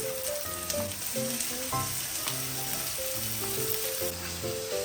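Onions and spices are sautéed in a pot, giving a steady close frying sizzle throughout, with tonal background music playing over it.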